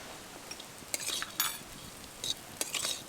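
Rice for Kashmiri pulao is fried and stirred in a pan, making faint, sparse bursts of scraping and light sizzle against a quiet background, with short pauses between stirs.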